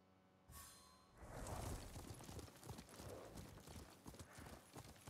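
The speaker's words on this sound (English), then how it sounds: "What a good horse." Horse hooves clip-clop steadily at a trot in Ghost of Tsushima, close and fairly loud, a brief whinny-like breath near the start, over light outdoor ambience.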